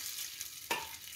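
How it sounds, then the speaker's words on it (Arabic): Rice being stirred once in hot oil in a pan, a single scraping stir with a soft sizzle over a steady background hiss of frying, close and fairly quiet. "الآن نحاول تقليب لمرة واحدة هكذا مع الزيت"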